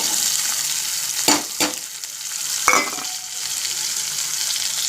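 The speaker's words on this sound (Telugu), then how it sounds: "అల్లం వెల్లుల్లి పేస్ట్ అది వేగుతూ ఉండగానే ఉల్లిపాయలు" Ginger garlic paste and onions fry in a pan with a steady sizzle. A few sharp stirring scrapes break through near the middle. No voices are heard.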